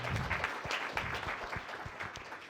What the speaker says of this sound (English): please give a round of applause for Sesha